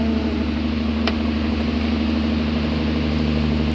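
A steady generator-like engine hum drones from the direction of an island off Pulau Lae Lae in the Makassar Strait, a constant mid-low mechanical tone with no breaks.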